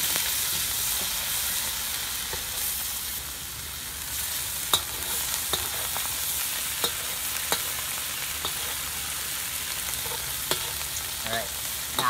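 Chili paste frying in a pan for Malaysian mamak-style mee goreng, a continuous close sizzle with scattered sharp spatula clicks and stirring scrapes.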